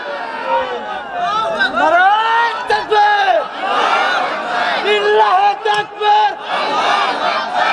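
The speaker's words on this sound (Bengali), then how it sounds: "দুহাত উত্তোলন করে তাকবীর দিয়ে আল্লাহকে দেখা দেন" Large gathering at an Islamic sermon shouting takbir in unison, loud rising and falling chants repeated in waves, close and dense with overlapping voices.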